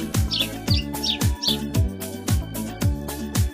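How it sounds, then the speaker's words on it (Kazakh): Sparrow chirps, bright and close, repeating in short bursts over a steady rhythmic musical backing with a pulsing beat. "Торғай."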